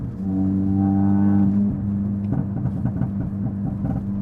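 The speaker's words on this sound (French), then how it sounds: "Oh, ça pétouille derrière, ça pétouille." A petrol car in sport mode idles with a deep engine drone, then its exhaust starts popping and crackling. Quick irregular snaps ride over the low rumble, loud and close.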